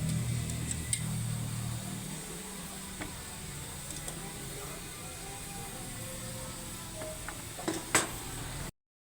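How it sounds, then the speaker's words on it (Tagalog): Embutido and pork frying in a pan for breakfast, a steady close sizzle and hiss running throughout with occasional light clicks of utensils and a faint voice in the background. "Isusunod ko yung ipiprito yung embutido at saka yung pork."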